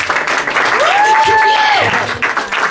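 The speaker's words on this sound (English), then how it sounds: "Guys, give a round of applause." Audience applause at a radio station meet and greet in Philadelphia, a dense loud round of clapping mixed with cheering and a whistle-like tone, with voices talking over it.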